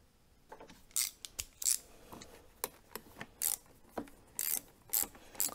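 A ratchet wrench clicks in short bursts while tightening carburetor nuts on a motorcycle, about a dozen quick clicking strokes, close and fairly quiet, with no voices.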